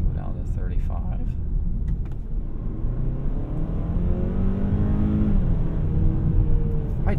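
A 2024 Hyundai Sonata N Line engine hums steadily with a low, throaty rumble enhanced by active sound design, climbing gradually in pitch as it accelerates, heard from inside the vehicle.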